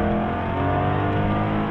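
A 2017 Jaguar F-Type SVR on a wet race track gives a loud, continuous engine roar under acceleration, heard from inside with a steady harmonic drone and rushing noise.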